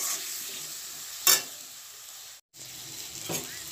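Spice paste for dhokar dalna sautéing in a pan, a steady close sizzle with a couple of sharp stirring scrapes and a brief dropout.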